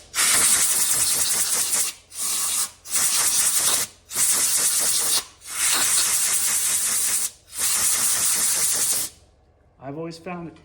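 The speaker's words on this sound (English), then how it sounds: "let's blow this off, make sure there's no debris on it" Compressed air blasts debris off a turned wooden burl bowl in six loud, hissing bursts of about one to two seconds each, separated by brief pauses, followed by someone speaking briefly.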